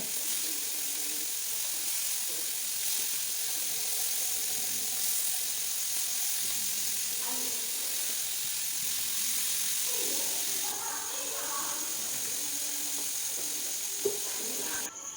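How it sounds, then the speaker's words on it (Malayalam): Small masala-coated fish with curry leaves fry in a pan, giving a steady, even sizzle throughout, with a few faint clinks and scrapes near the end. "മീൻ മസാല പരട്ടി വെച്ച മീനൊക്കെ ഓരോന്നായിട്ട് ആ ചട്ടിയിലേക്ക് വെച്ച് കൊടുക്കുന്നുണ്ട്"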